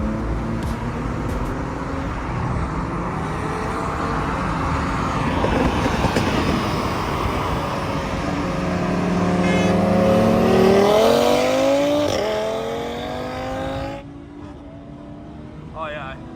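A stage 2 Audi RS3 with a stock turbo on E85 races an Infiniti Q60 from a 40 mph rolling start. Loud, sustained engine roar climbs steadily in pitch through the gears, peaks, then drops away abruptly near the end.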